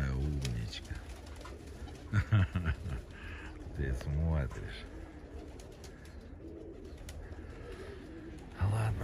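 Pigeons or doves cooing close by, several soft rounded calls repeating through the stretch while someone talks gently over them.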